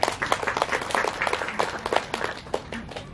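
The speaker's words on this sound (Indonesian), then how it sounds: "Tepuk tangan buat Pak Rudy" An audience at an Islamic talk claps for a guest in a short, uneven burst of applause, with distinct individual claps standing out.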